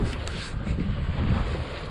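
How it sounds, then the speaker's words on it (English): Wind sweeps across Otisco Lake, a small lake, on a very windy day, making a steady, loud, buffeting rumble against the microphone with no break for the whole stretch. "And it's windy here at Otisco"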